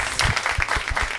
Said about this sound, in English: Big round of applause for all the comedians!